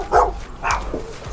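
A dog at a rescue barks twice, close and loud, with short yelping barks about half a second apart, then a softer whimpering tail.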